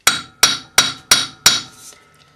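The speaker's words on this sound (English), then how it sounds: "We're going to just hammer a nice flat, then we're going to shift it and hammer another one next to it." Five sharp, evenly spaced metal hammer blows flatten 2.5mm wire for a forged bangle. Each strike rings briefly and decays before the next, heard up close with no talking.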